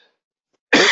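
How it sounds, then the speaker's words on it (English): One loud, close cough from a man bursts out suddenly after near silence at the very end. "Excuse me, I got a cough here."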